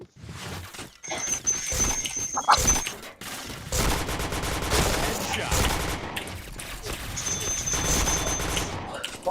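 Gunfire in a shooting video game comes in dense, rapid volleys that carry on through most of the stretch, with brief pauses and a high electronic tone, and occasional voices underneath.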